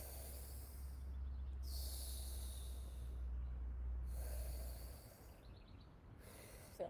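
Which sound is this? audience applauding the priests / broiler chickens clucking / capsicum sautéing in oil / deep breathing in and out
deep breathing in and out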